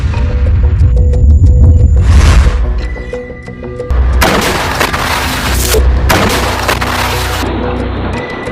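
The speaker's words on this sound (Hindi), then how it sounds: "हमास ने इसका एक वीडियो भी जारी किया है, जिसमें हमास के लड़ाके दूर खड़े इजरायली टैंक और सैन्य वाहन पर गोले दागते दिख" Heavy mortar shells fired at Israeli tanks and military vehicles during the Israel–Hamas war, loud booming blasts with sharp broadband cracks and a rumbling low throb between them.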